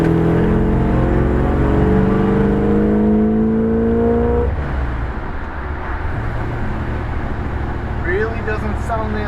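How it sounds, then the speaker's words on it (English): A 1962 Chevrolet Biscayne with an aftermarket muffler accelerates hard after a right turn, heard from inside the car: a loud engine note climbs steadily for several seconds, then eases into a quieter rumble of road noise. "I'm going to turn right here and accelerate very hard."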